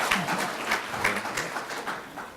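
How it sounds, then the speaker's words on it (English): A small audience at a talk on POLST registries gives a brief, fairly soft round of clapping with scattered individual claps, cut short at the end. "Okay, go ahead, clap."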